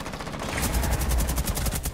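Rapid automatic gunfire with iron sights in a first-person shooter video game, a steady fast string of loud, close shots that runs through the whole moment with no voices.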